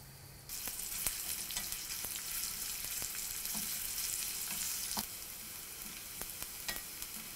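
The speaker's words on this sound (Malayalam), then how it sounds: "ഒരു ഫ്രൈങ് പാനിലോട്ട് 1/2 ടേബിൾ സ്പൂൺ വെളിച്ചെണ്ണ ഒഴിച്ച് ചൂടായി കഴിയുമ്പോൾ ഇതിലോട്ട് നമ്മൾ കട്ട് ചെയ്ത് വെച്ചിരിക്കുന്ന ചെറിയ ഉള്ളിയിട്ട് വഴറ്റുക." Small onions sauté in hot coconut oil in a frying pan, giving a dense, loud sizzle that jumps up suddenly at the start, with sharp intermittent clicks of a spoon stirring throughout.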